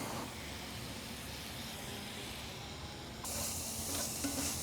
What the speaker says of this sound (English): I'm going to add the sausage back to the skillet